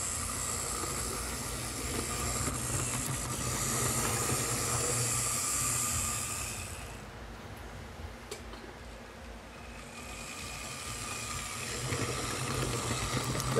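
Tyco Midnight Special model train locomotive running, a steady close whirring motor hum with a high-pitched whine that dips briefly in the middle and then returns at a smooth, even pace.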